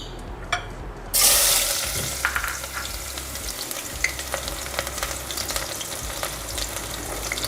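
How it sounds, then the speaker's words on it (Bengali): Chopped onion dropped into three to four tablespoons of very hot oil in a cooking pot, hissing into a loud steady sizzle with a sharp burst at the start and occasional clinks of a utensil. "পেঁয়াজটা আমি ভেজে নিব একটু হালকা করে পেঁয়াজটা ভাজবো"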